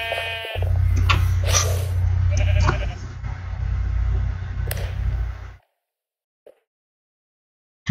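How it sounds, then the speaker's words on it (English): Minecraft sheep bleating in a game, a loud steady low bleat running for about five seconds alongside game sounds, then near silence with one faint blip. "Fuck your sheep!"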